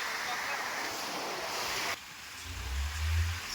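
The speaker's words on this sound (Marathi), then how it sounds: "या नदीची आजची जी अवस्था आहे ती बघा एकदम महापूर आल्यागत या नदीचे रुद्ररूप आपल्याला बघायला मिळते" The flooded Sindphana river in Beed taluka rushes with a broad, steady roar of water that drops away abruptly partway through, leaving a quieter wash with a low rumble beneath.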